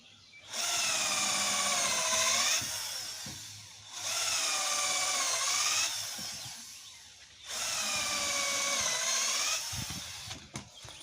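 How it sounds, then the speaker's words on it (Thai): Power drill boring into a wooden plant-pot shelf, three long high whining bursts separated by pauses, with light knocks and handling noise in the gaps. "เราก็เจาะตอกทุกขั้นเลยนะครับ"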